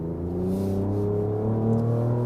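Ford Ranger Raptor pickup engine droning steadily at high revs with a harmonic hum, holding a lazy, drawn-out upshift without a sharp break, close and loud inside the cab.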